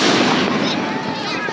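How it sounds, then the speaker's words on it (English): Fireworks going off during a 4th of July celebration, a dense, continuous crackling wash of bursts and pops, loud and steady throughout with no clear pauses. "We're off shooting fireworks."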